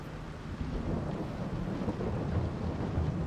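Rain and thunder in the Farming Simulator 22 video game: a low, continuous rumble of thunder rolls under the steady hiss of falling rain, with no talking.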